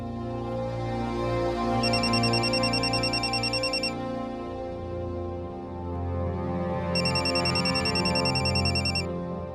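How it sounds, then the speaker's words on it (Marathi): A mobile phone rings indoors with a bright electronic ringtone, sounding in two separate bursts of a couple of seconds each with a short pause between, loud and close over a steady background. "अक्षय तुझा फोन वाजतोय."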